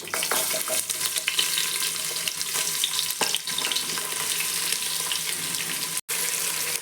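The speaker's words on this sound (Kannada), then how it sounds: "ಚೆನ್ನಾಗಿ ಫ್ರೈ ಮಾಡ್ಕೋಬೇಕು." Onions with cloves, cardamom and fennel seeds frying in a pan, a loud, dense, continuous hiss and sizzle with occasional scrapes of stirring, close and steady throughout.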